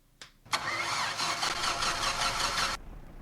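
A Pipistrel Panthera aircraft engine in the X-Plane 11 flight simulator cranks briefly, then catches and settles into a steady, loud, close running drone that holds for about two seconds before cutting off abruptly.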